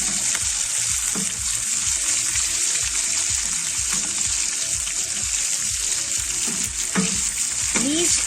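Prawns frying in darkening, browning butter in a pan, a loud continuous sizzle and crackle with stirring scrapes, close up with no talk.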